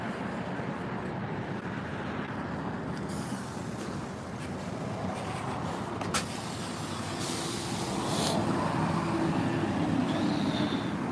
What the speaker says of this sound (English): I hope to Jesus that the bus is gonna stop here this time